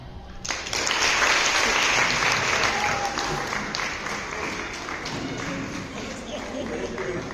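An audience at a school end-of-year celebration bursts into sustained clapping that starts abruptly, stays dense and loud, then eases slightly while continuing, with voices mixed into the crowd noise.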